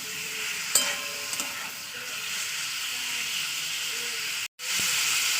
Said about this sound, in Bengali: চার থেকে পাঁচ মিনিট আমি ভাজা করে নেবো